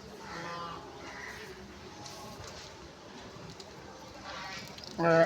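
Bulls lowing amid a noisy outdoor crowd, with people talking throughout and a louder moo near the end.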